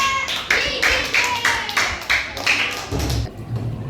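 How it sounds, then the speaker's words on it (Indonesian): Classmates in a school classroom give a brief round of hand clapping for a student group, about eight distinct claps in loose rhythm, close and moderately loud, followed by a low rumble of movement. "Baik, terima kasih kelompok 2, kita beri tepuk tangan."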